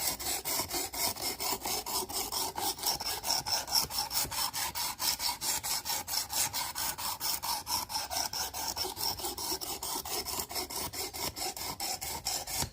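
A knife is drawn over the abrasive of a Work Sharp Precision Adjust sharpener in quick, even strokes, about forty rasping scrapes in a steady rhythm, close and fairly quiet.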